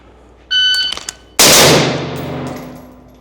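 Pistol shots on a shooting drill: a beeping shot timer, then one loud, sharp report with a long ringing decay, fired close by in the open.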